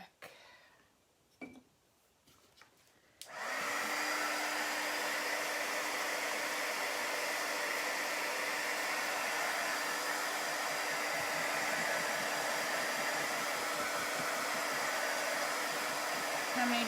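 Hair dryer blowing steadily and loudly on a chalk paste craft project, switching on after a few seconds of quiet handling sounds and running continuously to the end.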